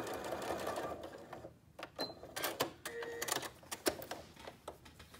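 Sewing machine stitching a curved seam, running in reverse: a whirring motor broken into short bursts and pauses, with a few sharp mechanical clicks, close and fairly loud, and no talk.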